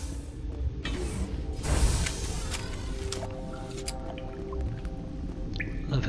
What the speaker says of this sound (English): I love how it sounds like melting water.